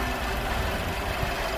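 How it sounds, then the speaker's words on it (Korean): A Mercedes-Benz E200 CGI with a 2000cc gasoline engine idles in a steady low rumble with an even, unchanging hum, heard close and alone without speech. "경제성이 탁월한 2000cc 가솔린 엔진이고요"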